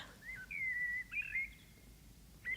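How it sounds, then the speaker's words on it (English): A bird chirps and whistles in a game announcement trailer, several clear, fairly faint drawn-out calls with a short pause, then a brief call at the end, no talk. "It's a bird."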